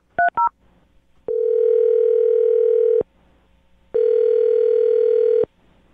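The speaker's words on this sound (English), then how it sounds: "Maggie, I'm going to dial his phone number" Two quick dialing beeps, then a steady telephone dial tone hums for about two seconds, stops, and returns for another stretch.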